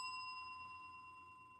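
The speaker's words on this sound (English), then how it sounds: "when we ring the bell 3 times" A small bell rings with a single clear metallic strike at a party, its bright tone ringing out and slowly decaying, quiet and alone without talk.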